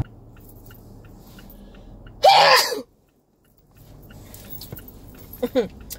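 One sharp, loud sneeze bursts out, followed by a brief silence and then quiet rustling and small mouth noises.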